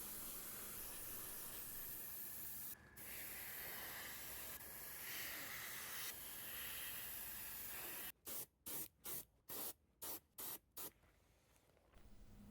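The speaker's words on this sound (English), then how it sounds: "For dyeing, I like to use my airbrush." An airbrush sprays red, blue and dark brown dye onto leather for a shrimp-shaped bag, giving a steady close hiss that runs almost unbroken before ending in a quick series of short, evenly spaced bursts, with no talking.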